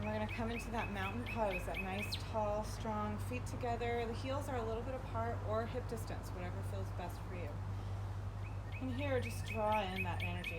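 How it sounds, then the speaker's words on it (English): Bird song chirps and trills repeatedly through the background, steady and moderately clear beneath a calm voice talking continuously over a low hum. "Hear that lovely bird singing."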